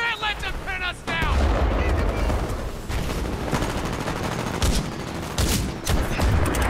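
Dense gunfire in the shooter game Titanfall 2 during an Attrition match with DMR and R101 rifles, rapid loud shots and bursts overlapping continuously, with a voice talking briefly at the start.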